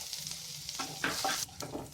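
Chopped garlic sizzles frying in hot oil in a wok, with a spoon scraping and stirring the pan in short strokes, close and quiet.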